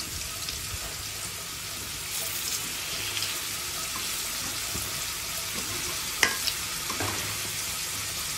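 Pumpkin slices deep-fry in hot oil with a steady, even sizzle and crackle that holds throughout, with a few sharper pops near the end and no voices.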